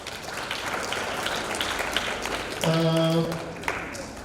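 An audience at a student competition prize-giving claps lightly in a steady patter under the room's ambience, while a brief tonal musical sting or chime cuts in near the end.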